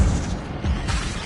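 An Incendio fire spell goes off in the Hogwarts Legacy video game with a loud, close burst of roaring, rumbling flame and crackle that stays full for just over a second.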